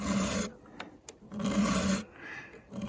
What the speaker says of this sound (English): I'm going to touch up the chain now, sharpen it up a bit